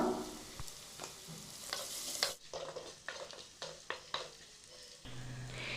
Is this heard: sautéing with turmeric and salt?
yes